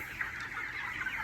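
Farm chickens cluck softly in a short, faint burst of low repeated clucks, alone with no voices.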